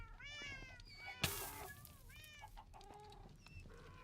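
A chicken clucks and chirps in a run of short, bright repeated calls, with a sharp knock partway through and a cat-like meowing quality, fairly close over low background noise and no talk.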